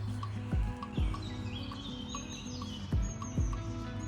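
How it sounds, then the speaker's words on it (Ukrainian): Birds chirp and sing in short repeated phrases outdoors, with a few soft thumps and a steady low background hum. "боже співають пташки класно"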